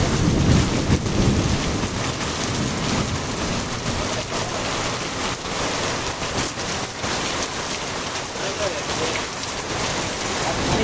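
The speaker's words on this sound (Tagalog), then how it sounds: "Guys, sobrang lakas ng ulan." Very heavy rain pours down nonstop during a strong windy storm in Clark, Pampanga, a dense, loud roar of water lasting throughout, with rumbling thunder mixed into the downpour.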